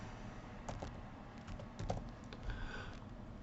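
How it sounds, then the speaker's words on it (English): Letters typed on a computer keyboard while entering a training class type in fire data software, quick irregular clicking keystrokes close up over a low steady background hum. "Select the class type by typing in a few letters"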